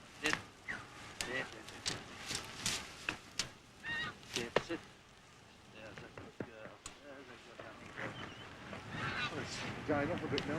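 Geese honking in a wildfowl setting, with repeated short calls scattered through the clip, some near and some farther off, while people talk over and between them.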